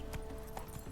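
Roach the horse galloping in The Witcher 3, a quick burst of hoofbeats lasting under a second, soft and steady with no talk.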